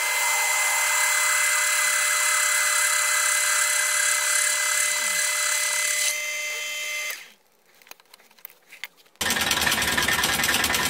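A brushless 12-volt DC motor drives a Hobbies A1 or Gem treadle fret saw with a loud, steady, high whine. The whine cuts out about two-thirds of the way through, and after a brief lull a harsher, noisier burst starts.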